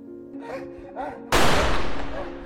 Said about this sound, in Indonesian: suara tembakan terdengar